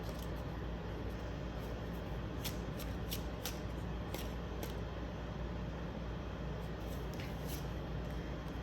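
Tarot cards being shuffled, with quiet riffling and soft papery flicks repeating close by under a faint steady background hiss.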